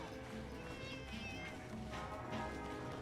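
A feline companion meows in Monster Hunter Generations, with short cat calls set against continuous game music and battle noise, and a voice speaking over them.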